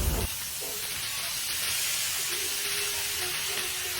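Pork cubes sautéing with fish sauce in a hot pan, a loud, continuous bright sizzle and hiss that stays steady throughout, with faint clinks of stirring.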